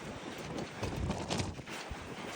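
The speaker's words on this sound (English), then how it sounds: "super windy today." Gusty wind buffets the microphone in uneven rumbling bursts, swelling and fading over a couple of seconds.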